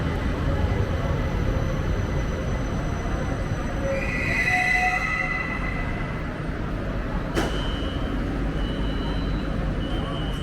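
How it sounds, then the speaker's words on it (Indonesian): A Jabodebek LRT train rolls into a station toward Jatimulya, with steady rumbling rail noise throughout and a brief high wheel squeal partway through, heard close and loud. "akhirnya untuk kereta LRT tujuan Jatimulyanya sudah tiba"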